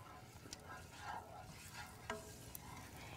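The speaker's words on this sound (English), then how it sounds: "So we're just gonna saute this together" Ingredients for an Indian dish sautéing in a pan, a soft steady sizzle with a few scraping stirs and light clinks of a utensil against the pan, quiet and without talk.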